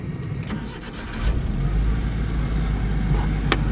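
An old ranch truck engine cranks and catches, then settles into a steady, loud, close rumble that fills the rest of the short stretch.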